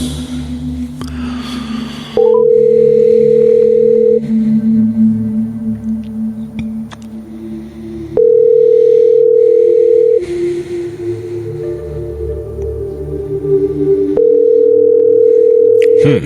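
A telephone call being placed produces a loud, steady electronic tone that sounds in long pulses about every six seconds, over a low background hum.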